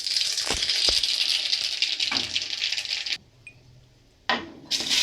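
Chopped ridge gourd tumbles into hot oil with panch phoron, setting off a loud, close sizzle that cuts out abruptly and then bursts back with stirring.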